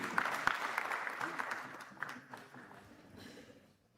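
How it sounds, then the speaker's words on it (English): Applause from an audience at a white coat ceremony for a college of medicine in Huye, fairly loud at first and gradually fading out, with some voices mixed in. "A big round of applause for Mr. Tanzania."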